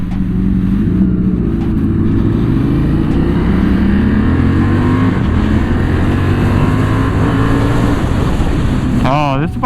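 A Honda CB750 Hornet motorcycle engine runs steadily and loudly as it rides off, a smooth low drone with gently rising pitch through gear changes, heard close with wind noise over it.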